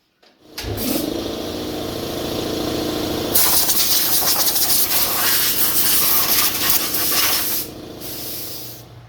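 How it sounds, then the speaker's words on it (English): Compressed air hisses steadily onto a console part for a 1992 Ford Mustang GT Fox Body USB charger install, close and loud, with a harsher, stronger blast through the middle. "I guess I'll get some compressed air on that"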